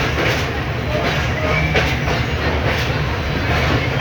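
The Tezgam Express passenger train runs from Karachi toward Lahore, heard from inside the carriage: a loud, constant rumble and rattle of wheels on track, with faint rhythmic clatter throughout.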